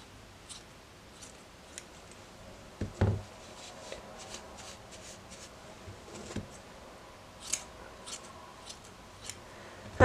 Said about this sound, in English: I'm just going to keep trimming it until I'm happy with the length and the shape of the spikes.